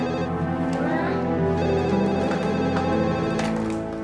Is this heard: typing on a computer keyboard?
no